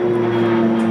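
An airplane passes overhead at an outdoor summer band concert in a park, a loud, steady propeller-engine drone with a constant low hum and no voices.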